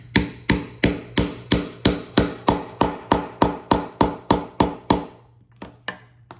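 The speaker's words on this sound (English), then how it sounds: "we're just gonna stick a rivet in each corner right here, just as a little extra reinforcement" A hammer strikes rivets into the corners of a handmade leather shooting bag, about fifteen sharp, evenly spaced blows in a steady rhythm, close and loud, then a few lighter taps after a brief pause.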